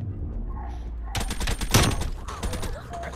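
Gunfire from a Tec-9 in Call of Duty: Black Ops Cold War, a dense loud burst of rapid shots starting partway through and continuing in clustered reports over background game noise.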